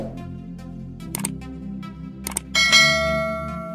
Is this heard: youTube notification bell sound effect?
yes